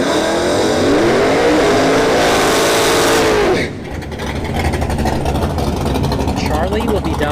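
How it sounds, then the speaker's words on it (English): Pontiac GTO at an NHRA bracket drag race rises through loud, climbing revs that peak and cut sharply, followed by rumbling engine noise under a track announcer's talk. "Charlie C coming up with his Pontiac GTO here in the left lane."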